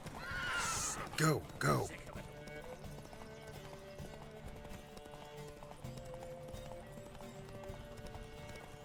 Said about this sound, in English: Riders ready! Don't spare the horse!